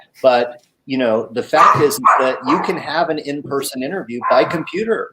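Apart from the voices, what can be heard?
dog barking in background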